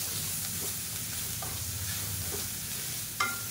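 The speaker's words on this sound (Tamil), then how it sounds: "சேர்த்துட்டு லேசாக வதக்கி விட்டுக்கலாம் அந்த தேங்காய்" Grated coconut sautéing in a pan for chutney, a soft, steady low sizzle with occasional spatula scrapes and a single sharper tap near the end.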